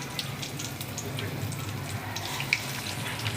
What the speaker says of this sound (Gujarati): તમે જોઈ શકો છો કોથમી કેવી તેલમાં તળાય છે